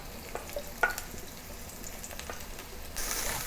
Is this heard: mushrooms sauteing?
yes